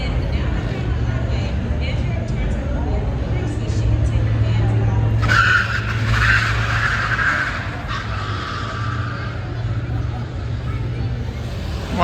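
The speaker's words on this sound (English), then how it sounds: "Here's Ford showing off the acceleration of the electric Mustang." An electric Ford Mustang accelerates during a car show demonstration, a hissing whine that rises midway over steady crowd babble and background noise, heard from a moderate distance.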